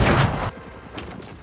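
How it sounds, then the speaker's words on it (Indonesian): A gunshot in an action film about the Italian mafia goes off as a loud, sharp blast that decays over half a second, followed by fainter rumbling echoes. "ternyata itu tembakan dari Covik."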